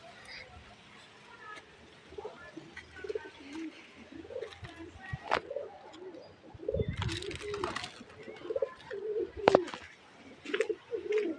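Racing pigeons in a loft coo in low repeated throaty phrases, with scattered wing flutters and sharper calls. A person speaks at times underneath.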